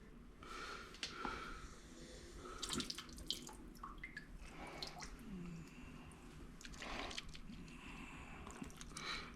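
Water poured and sloshed out of a gold pan, with splashing bursts and running water that come and go across the stretch at moderate level, some louder at the start and end.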